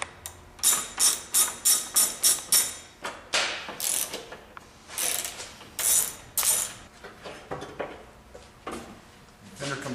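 Ratchet wrench clicking in quick repeated bursts while backing out T40 rear fender bolts on a motorcycle, close and loud, followed by slower scattered ratcheting and metal handling.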